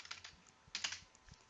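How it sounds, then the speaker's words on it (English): Quiet typing on a computer keyboard, a soft irregular patter of close key clicks with a couple of small bursts and no voices. "Now I'll be typing in"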